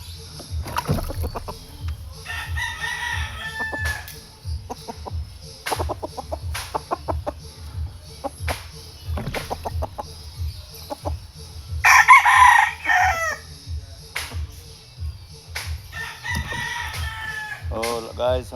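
Chickens cluck and a rooster crows in a rural setting, with steady rhythmic low thumping running underneath throughout.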